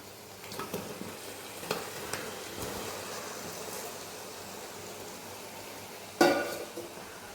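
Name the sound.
chicken being stirred into sizzling masala in a pan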